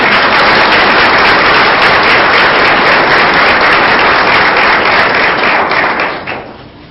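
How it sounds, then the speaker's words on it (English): Sustained, loud applause from an audience clapping for middle school team members as their names are read, a dense steady wash of hand claps that tapers off near the end. "You can go ahead and clap for those."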